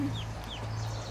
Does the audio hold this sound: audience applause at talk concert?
no